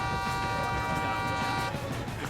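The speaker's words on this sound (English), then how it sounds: "See, they already got honked at." A car horn honking at jaywalking pedestrians on a Sydney street, a sustained faint tonal blare over traffic noise with voices nearby.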